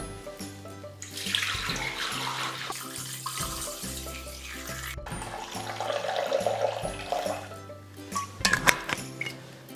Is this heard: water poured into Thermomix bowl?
yes